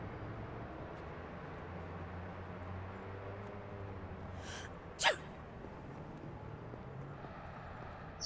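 A single sharp sneeze from a character in Watch Dogs, brief and fairly close, rising over a low steady city ambience.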